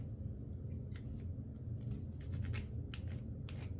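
A burnisher rubbed along copper foil wrapped on stained glass pieces, producing short bursts of close, dry scraping and squeaking strokes over a low background hum, irregular and fairly quiet.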